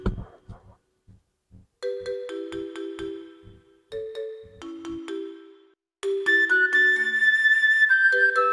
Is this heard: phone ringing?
yes